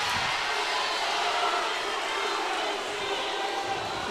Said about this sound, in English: Now we can hear the crowd.